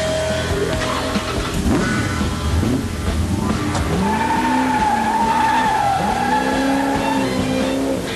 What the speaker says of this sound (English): It still pushes with the back tires completely locked up.